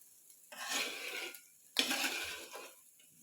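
Beef frying with onions in oil comes through as two bursts of scraping stir and sizzle in a pan, separated by a short quieter pause, fairly close.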